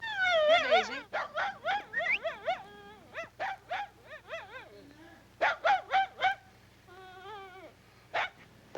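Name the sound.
dog whimpering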